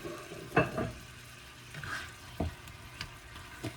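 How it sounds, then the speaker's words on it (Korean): Shrimp and bacon fry in a pan with a soft sizzle, broken by several sharp scraping knocks as the pieces are stirred. "베이컨을 다 넣어주시고 계속 저어주시면 됩니다"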